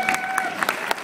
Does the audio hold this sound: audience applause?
yes